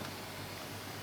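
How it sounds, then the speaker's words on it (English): Vacuum air noise from a machine holding a vinyl record stamper down, a steady, even hiss of rushing air at low level with no breaks. "So he's now just applying vacuum to the stamper to hold it down. That's the air noise you can hear there."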